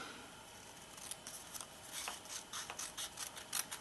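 Scissors snip steadily through paper, cutting out three words from a Christmas votive candle craft, with quiet, close, irregular crisp clicks and no talking.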